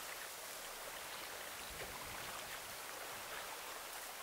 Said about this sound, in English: the water flows by